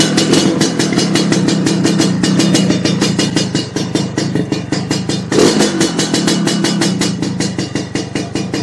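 A Lambretta scooter with an LTH7 plate clutch revs in gear while held stationary, a loud, close two-stroke engine with rapid pulsing firing and a few rises and falls in pitch.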